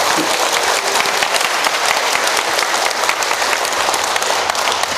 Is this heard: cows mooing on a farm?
no